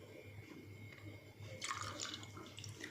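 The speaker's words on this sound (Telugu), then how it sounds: "కొన్ని వాటర్ పోయి చూపిస్తాను" Water poured out to rinse a freshly cleaned surface splashes and trickles faintly, with a brief louder gush midway before settling back to a soft running flow.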